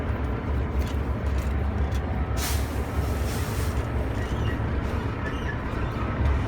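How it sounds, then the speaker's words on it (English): Air brakes on a commercial truck are released during an in-cab CDL inspection, giving one brief burst of hiss partway through over the steady, loud rumble of the idling engine. "I'll now disengage both brakes"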